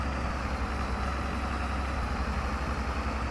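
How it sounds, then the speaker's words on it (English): A tractor at work on a Saskatchewan farm idles steadily, a low, even engine drone with a constant heavy rumble heard from inside the cab, quiet and unbroken throughout. "It's a sweet tractor."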